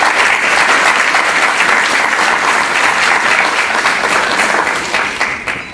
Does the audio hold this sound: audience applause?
yes